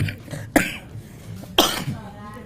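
Two sharp, close coughs about a second apart during a live religious lecture, each followed by a brief rasp, with some quiet speech between them.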